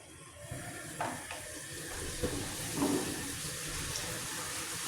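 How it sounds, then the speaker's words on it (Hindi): Water trickling into a pan of chana dal during cooking, a faint soft pour with small splashy bursts over a quiet kitchen background, no talking. "थोड़ा सा पानी डालती हूँ"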